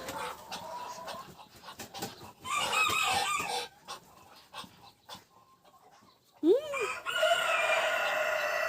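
Rooster crowing loudly and close by among clucking hens and other poultry on a farmyard with ducks, the crow rising in a long wavering call near the end over steady barnyard clucking.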